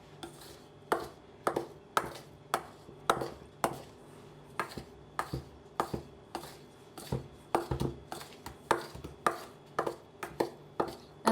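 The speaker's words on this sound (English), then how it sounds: "using a knife or a pastry cutter I'm gonna cut the butter into my flour mixture until it looks like crumbs" A knife or pastry cutter cutting butter into a flour mixture for a Linzer torte dough, a steady series of close, sharp chopping taps against a bowl or board, about two per second.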